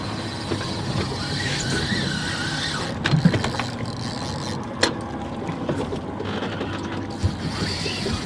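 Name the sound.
fishing reel drag screaming as jack crevalle runs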